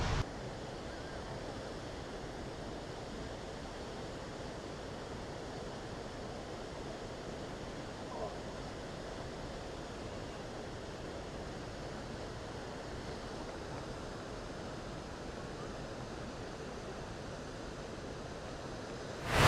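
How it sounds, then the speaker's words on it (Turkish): Steady, dense rushing of Muradiye Waterfall, constant and fairly close, with no voices. "Şimdi buz gibi şelale sesi eşliğinde çayımızı, kahvemizi yudumlayacağız."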